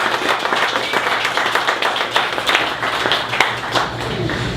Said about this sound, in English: Live, again, another round of applause because they've been fantastic.